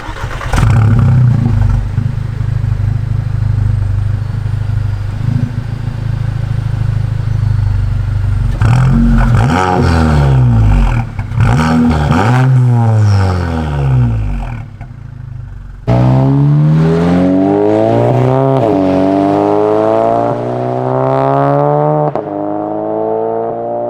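A big-turbo Volkswagen Mk7 GTI engine hums steadily, then revs hard in repeated rising sweeps as it accelerates through the gears, loud and close, with no talking.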